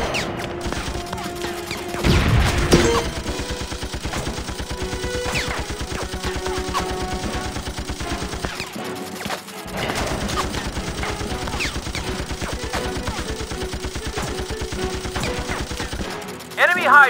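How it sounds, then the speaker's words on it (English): A minigun firing in a card-battle video game: long sustained bursts of rapid gunfire, loud and close, with music and game announcer voices over it and a brief gap midway. "Enemy minigun is armed!"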